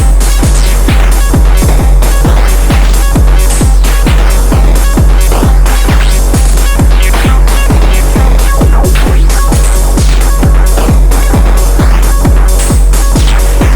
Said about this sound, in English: every sound you hear is being sequenced by the Nerd Sequencer